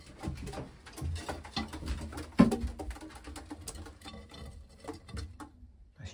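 Racing pigeons in a breeding loft for widowers, with soft overlapping cooing, wing flutters and scratchy patter throughout, one sharper knock midway, fairly close and moderately quiet.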